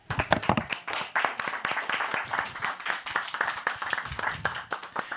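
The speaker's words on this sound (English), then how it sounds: "let's give a round of applause for Lacey" Audience applause for a speaker at an industry conference, with sharp individual claps standing out from a modest, fairly close crowd.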